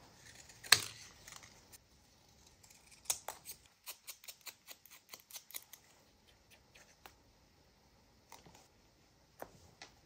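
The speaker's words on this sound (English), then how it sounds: "So I'll cut off a part." Scissors cut through paper while trimming collage ephemera, giving a series of quiet, crisp snips and rustles that come in short bursts with pauses, close by and alone without talk.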